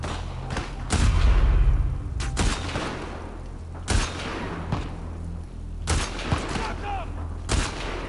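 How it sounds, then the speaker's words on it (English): Video game gunfire as players shoot each other in a battle, with sharp gunshots and bursts of rapid fire cracking out at irregular intervals, some loud and close, amid a heavy rumble. "everybody's shooting each other"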